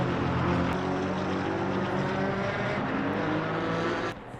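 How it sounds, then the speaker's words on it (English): GT4 race cars at Misano in Assetto Corsa Competizione roll out for qualifying, a steady loud engine drone with layered tones holding throughout before dropping off at the end, with no talk. "As we see the first cars coming out for the second qualifying session."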